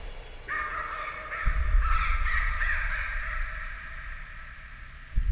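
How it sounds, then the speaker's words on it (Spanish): Crows caw repeatedly in the horror game Layers of Fear, harsh calls overlapping in a loud ongoing flock over a low rumbling ambience, with no talking. "Cuervos."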